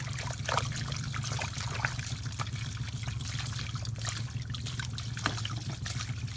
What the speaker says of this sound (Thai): เขากลับมาล้างขี้ดินออก ทำความสะอาด